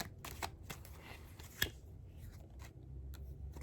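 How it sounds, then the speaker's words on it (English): Tarot cards shuffled and pulled at close range, a soft continuous flicking and riffling with quiet taps and one sharper snap, no voice over it. "I'm going to pull a couple more cards and we'll see"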